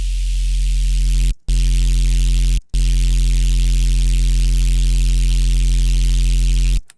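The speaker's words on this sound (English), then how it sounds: "So then we can add the distortion." Distorted noise synth patch built in Serum for drum and bass, a loud steady buzzing hiss over a humming low drone, cut by two brief dropouts before fading out at the end.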